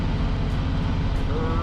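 A truck with a 10-speed transmission and a C12 engine crawls along in granny low gear, its engine droning loud and close with a deep rumble and no break in the noise.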